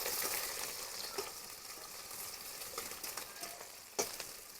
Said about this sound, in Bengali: একটু পেঁয়াজটা ভালো করে ভেজে নেবো।